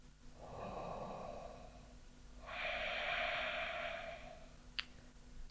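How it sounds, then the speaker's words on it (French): Two long, slow breaths during a standing Ashtanga yoga pose, a drawn-out breath followed by a stronger, brighter exhale, close and fairly quiet, ending with a brief click. "On reste pour 5 respirations."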